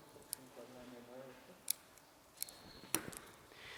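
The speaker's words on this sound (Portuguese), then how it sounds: "eu necessariamente vou ter que cortar esse galho central aqui" Scissors snip a juniper bonsai branch in a few sharp, close clicks spread apart, over faint room noise with someone talking softly in the background.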